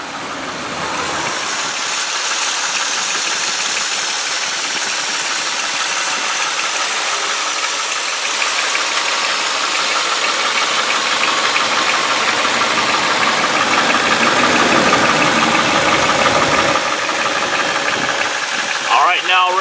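A 2003 Chevy Malibu sedan with a 3.1 liter V6 idles close by, a steady broadband engine hum with faint ticking that holds evenly throughout, lightly rising toward the end.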